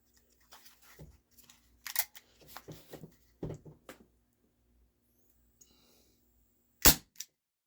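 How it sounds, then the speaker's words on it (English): A Gamo PT-80 air pistol fires pellets in single action, sharp snapping shots spaced out among quieter clicks and handling noises, with one loud crack near the end. "I'll shoot these in single action."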